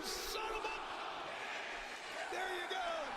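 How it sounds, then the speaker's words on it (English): A wrestling arena crowd at AEW Collision roars in a steady, distant wash of cheering with occasional whoops, heard through a broadcast feed. "you hear the crowd?"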